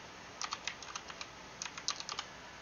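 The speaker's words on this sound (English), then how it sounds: "I'm just typing out a word answer" Rapid, light clicks of keys on a computer keyboard, typed in two short bursts with a pause between, close by and fairly quiet.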